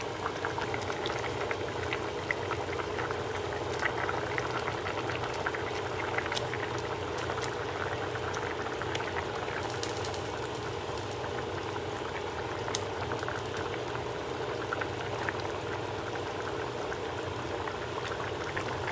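Tamarind curry (puli kuzhambu) at a steady rolling boil in a pot, a continuous bubbling and burbling heard up close at moderate level with no talk.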